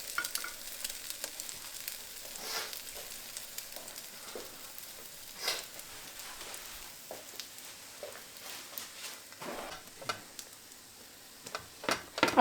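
French toast frying in a pan until golden brown, giving a soft, steady sizzle with faint crackles and occasional light pops throughout, close and fairly quiet with no voices.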